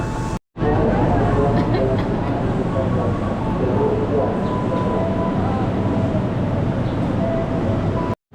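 Inside a KRL commuter train heading to Bogor, a continuous loud rumble of the moving carriage with faint onboard tones, cut off briefly at the start and end.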